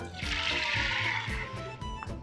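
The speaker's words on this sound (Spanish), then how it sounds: "Le echamos su jarrita de agua." Water from a small jug pouring into a cooking pot of beans over a wood-fired oven, a steady broadband splashing rush lasting a couple of seconds, close and fairly loud.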